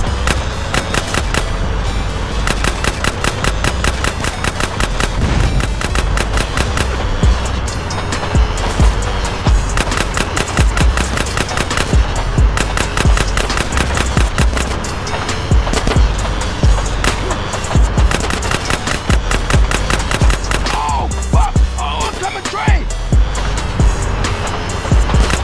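Sustained bursts of gunfire from Big Smoke in GTA San Andreas rattle steadily and loudly for the whole stretch, alongside game engine and vehicle noise, with no talking.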